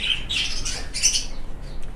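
Pet birds, including albino and red-eyed lutino birds, squawk inside an aviary. Shrill calls and chirps repeat in quick succession, close and fairly loud, with no voices.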